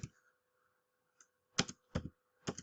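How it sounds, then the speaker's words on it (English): Typing on a computer keyboard while setting up a Gmail account: a few faint scattered clicks, then three short bursts of quick keystrokes in a quiet room. "I'm having a bad day with typing today."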